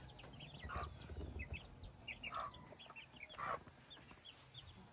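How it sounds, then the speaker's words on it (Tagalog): Chickens on a rural farm in Batangas give a few faint, scattered clucks over quiet outdoor background noise, with a couple of slightly louder calls standing out. "Anong manok to, Kim?"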